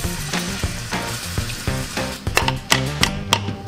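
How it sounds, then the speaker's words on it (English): Onions frying in melted butter over medium-high heat, a close, continuous sizzle broken by regular scraping stirs and soft clicks of a utensil against the pan, with no talking. "Once that's melted, we're gonna add in our onions."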